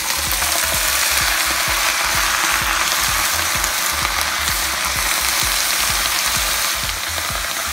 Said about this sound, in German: Jetzt geben wir unsere Zwiebeln dazu und tun die dabei ein bisschen andünsten.